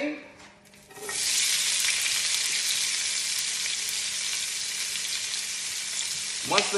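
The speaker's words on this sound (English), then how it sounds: "I'm going to put some oil in the pan and I'm going to start frying my onions." Onions hit hot oil with a sudden loud sizzle that settles into a steady, close frying hiss, ending with a faint clink.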